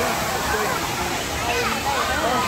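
A waterfall rushes in a steady, dense roar that fills the whole scene, with faint voices under the constant noise of falling water.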